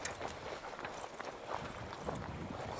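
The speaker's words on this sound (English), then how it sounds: "I have the horses out here." Horses moving outdoors on a ranch, hooves clip-clopping in a faint, irregular rhythm against soft background noise, with no talk over them.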